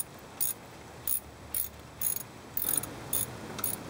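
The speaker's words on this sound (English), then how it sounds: "Find the hole where the bolt goes, put the ratchet on and ratchet it in." Ratchet clicking in short bursts while tightening the idler pulley bolt on a Jeep during a water pump replacement, roughly seven quick clicking runs spaced evenly, close and fairly quiet.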